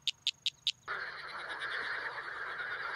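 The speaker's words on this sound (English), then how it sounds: "These are some of the calls that male frogs make to attract female frogs during the mating season." Male frogs' mating calls in the breeding season: four short, evenly spaced high chirps, then a loud continuous chorus of trilling calls that carries on steadily to the end, with no talk.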